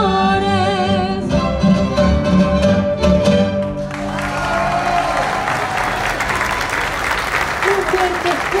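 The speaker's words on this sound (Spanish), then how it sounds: "Un fuerte, fuerte aplauso para esta orquesta de cámara de Altamira, Tamaulipas" A chamber orchestra from Altamira, Tamaulipas finishes a piece with sustained bowed and tonal notes. A crowd at a municipal concert then breaks into loud, steady applause that carries on for several seconds.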